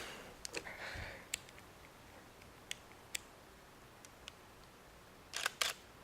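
A Nikea semi-pro camera fires its shutter at a slow speed, giving a handful of sharp, quiet clicks spaced across a hushed room, with a denser cluster of mechanical clicks near the end.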